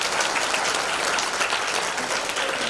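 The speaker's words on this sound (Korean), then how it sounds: "우리 스님을 위해서 박수 한번 해주세요." A large gathering at an elders' national emergency conference claps for a monk, a loud, dense, continuous burst of applause filling the room from start to finish.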